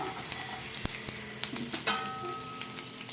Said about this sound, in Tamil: இப்போ கருவேப்பிலை போடுறோம் இப்போ அரைக்காத வெள்ளை பூண்டு போடுறோம்